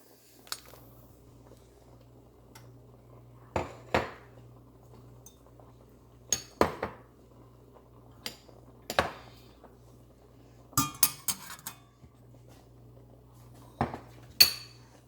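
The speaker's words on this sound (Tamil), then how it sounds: "இப்போ பாருங்கள் நல்லா மிளகா கறுத்து கொண்டு வந்துட்டது இப்போ நாங்கள் அதை வெளியில் எடுப்போம்" Blackened fried chillies lifted out of a pan with a metal utensil: sparse, sharp clinks and taps of metal on metal, separated by quiet pauses over a low hum.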